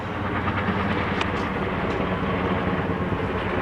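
A helicopter passes right overhead above a house, its dense, steady rumbling drone filling the air at close range, loud and unbroken throughout, with no one speaking.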